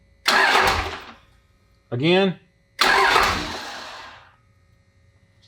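A Dodge Ram's Cummins 5.9 24-valve diesel is bumped over by the starter in two short, loud cranking bursts, each fading away after about a second. Someone speaks briefly in the pause between them.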